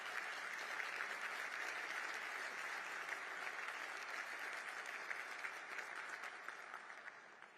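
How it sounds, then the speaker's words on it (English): An audience applauds at a joint public appearance, a sustained, even patter of many hands heard at a distance, holding steady before tapering off toward the end. "So please applaud Abby whether you want to or not"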